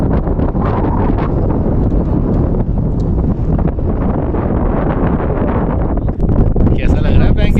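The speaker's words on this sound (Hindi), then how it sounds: "काफ़ी हवा चल रही है यहाँ पे" Strong wind at Pangong Tso lake in Ladakh roars across the microphone as loud, constant buffeting, with people talking under the gusts.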